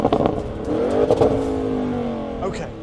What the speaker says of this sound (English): Race mode, left foot of the brake, right foot on the throttle, and this has the most insane launch control of any wagon ever.